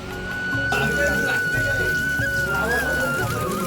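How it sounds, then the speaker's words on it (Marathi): Steady monsoon rain falls outside a farmhouse near Mumbai, a continuous dense patter, with a faint tonal hum running underneath throughout. "मुंबई पाऊस चालू आहे मित्रांनो बाहेर"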